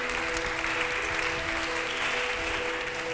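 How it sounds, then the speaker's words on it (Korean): Studio audience clapping steadily to welcome a guest, a former North Korean lawmaker, onto a Korean talk show stage: a continuous, even wash of applause at moderate level with no voices over it. "큰 박수로 모시겠습니다"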